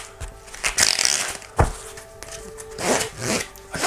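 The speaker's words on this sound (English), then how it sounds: "I can then shuffle the cards." Deck of playing cards shuffled by hand during a sleight-of-hand demonstration, giving dry papery rubbing and riffling with a sharp snap near the middle, close and moderately loud, with no voices.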